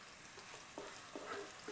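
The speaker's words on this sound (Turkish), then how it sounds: "Soğanlar pembeleşene kadar kavuracağım." Chopped medium onion with salt sautéing in oil, a steady soft sizzle with a few light stirring scrapes, close and fairly quiet.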